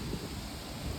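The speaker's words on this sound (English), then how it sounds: "it's very windy today" Steady, low wind noise rumbling across the microphone on a woodland hike in central Ohio, with gusty buffeting in the low end and no voices.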